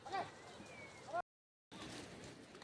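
Sheep and goats herded by Gaddi shepherds in the Himalaya give two short, faint bleats about a second apart against quiet outdoor air, with a brief stretch of total silence after them.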